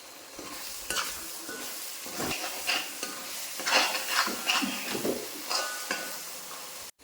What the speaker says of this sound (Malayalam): മൂന്ന് ടീസ്പൂൺ മുളക് പൊടി ഇട്ട് നമുക്ക് വീണ്ടും ഇത് കൂട്ടി യോജിപ്പിച്ച് കൊടുക്കാം